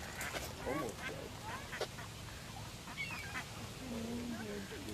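A duck quacks in short, repeated calls while attacking a seagull outdoors, with honk-like squawks and background noise and people talking over it.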